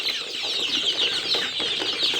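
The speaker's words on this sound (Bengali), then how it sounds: "তো দেখেন, এগুলো হচ্ছে ফার্মি মুরগি।" Young five-week-old broiler chickens on a farm give a steady chorus of clucks and chirps with some wing flapping, close and continuous throughout.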